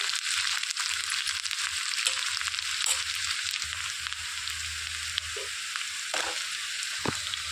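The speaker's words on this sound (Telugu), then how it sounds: "ఇందులోనికి ఇలా ఉన్నప్పుడు ములక్కాడ వేసేసుకుంటే నూనెలో మంచిగా ములక్కాడ కూడా ఫ్రై అయ్యిద్దండి" Drumstick pods fry in oil with browned onions for a spicy cucumber and drumstick curry, a constant hissing sizzle with occasional stirring clinks and scrapes, close and even.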